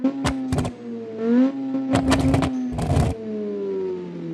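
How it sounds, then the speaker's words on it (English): A two-rotor rotary engine in a JDM luxury car in BeamNG.drive, droning steadily with rising and falling revs, interrupted by sharp bursts of exhaust popping and crackle, close and fairly loud. "we got the freaking Weno Libra right here with the rotary sound, as you can hear right now"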